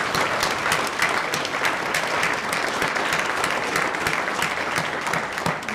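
Steady, full applause from a graduation ceremony audience honoring staff, teachers and paraeducators of a community transitions program, dense clapping sustained evenly throughout with no talking.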